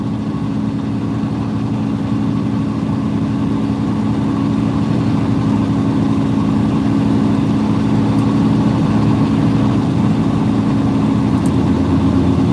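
A truck engine drones steadily and loudly throughout, a deep low rumble with a constant hum, no voices.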